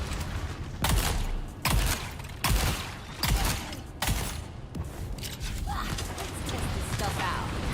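Bursts of gunfire ring out in Dune Awakening during a fight in a level 9 poison lab, about five sharp broadband volleys spaced a second or so apart over steady game noise and background voices.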